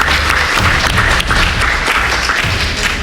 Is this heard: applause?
yes